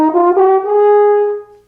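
Natural horn fitted with a cylindrical crook piece to pitch it in D, playing a short ascending run that settles on a long sustained note; mellow, rounded tone, solo and close.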